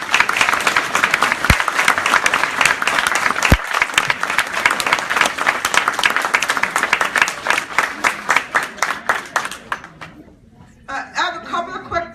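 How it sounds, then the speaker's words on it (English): Audience applause for speakers at a Black History Month luncheon, a dense, sustained round of clapping from a room full of people for about ten seconds, fading out before a voice begins speaking. "Let's give a big round of applause for our speakers today."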